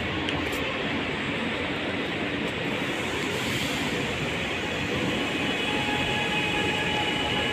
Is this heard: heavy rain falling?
no